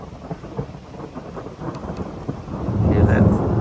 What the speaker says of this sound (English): We have a thunder rumbling all around us